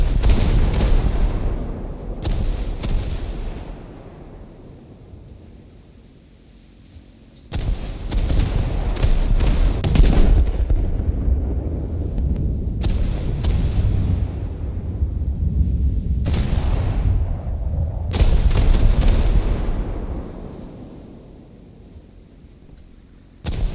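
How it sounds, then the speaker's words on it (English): Video game gunfire and artillery shots boom in repeated heavy bursts, some clustered and some spaced out, each leaving a deep rumbling decay before the next volley. "Oh, shots flying."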